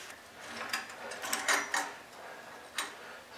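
A hand ratchet clicks in short bursts while tightening motorcycle highway peg mounts in a garage, quiet and close with brief pauses between strokes.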